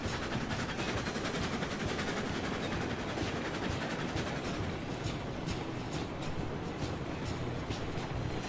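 A long train rolls past in the railroad game Railroads Online, a steady dense rumble with faint rhythmic clatter, moderately near and continuous.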